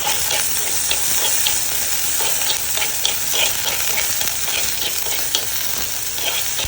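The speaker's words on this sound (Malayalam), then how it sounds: "ഇനി അടുത്തത് വെണ്ടയ്ക്കയും ഉരുളൻകിഴങ്ങും മെഴുക്ക് വരട്ടിയാണ് റെഡിയാക്കിയെടുക്കും" Okra and potatoes frying in a pan for a mezhukkupuratti, with a continuous close sizzle and frequent clicks and scrapes from stirring, and no talking.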